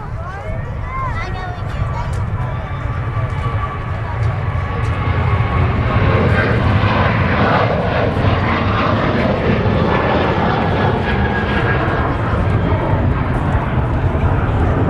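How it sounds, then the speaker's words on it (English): A Ryanair airliner rolls down the runway at Manchester Airport, its loud, continuous engine roar building and holding steady throughout, close and dominant, with faint voices underneath. "Looks like the Ryanair is now rolling."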